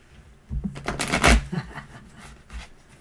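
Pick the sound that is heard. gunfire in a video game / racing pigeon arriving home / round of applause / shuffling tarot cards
shuffling tarot cards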